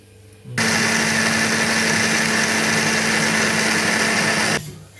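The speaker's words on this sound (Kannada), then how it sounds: "ಅಕ್ಕಿಯನ್ನು ನಾವೀಗ ಕಡಿಯುವ ಅದಕ್ಕೆ ಒಂದು ಸ್ವಲ್ಪ ನೀರು ಹಾಕಿ ಕೊಡುವ ನಾವು" A mixer grinder blends rice with a little water and salt for yerappa batter, giving a loud, steady motor whir that starts abruptly, runs for about four seconds and cuts off sharply.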